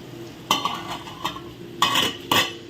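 Potato curry cooking in a pan, with a low simmering sizzle and a handful of spatula scrapes and clinks against the metal, some louder bursts near the end.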